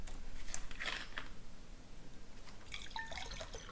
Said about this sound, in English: Just gonna pour myself some more water.